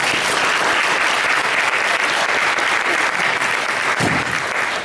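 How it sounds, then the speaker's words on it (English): Sustained audience applause at a Montgomery County Executive candidates' debate, a loud, dense wash of clapping from a full room that runs steadily throughout. "Let's give them a round of applause also"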